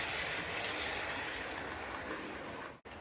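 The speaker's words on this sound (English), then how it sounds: "we're going to park Winston Churchill with the funeral train under there too." A model train rumbles steadily along its track with a continuous clattering whir, then cuts out briefly near the end.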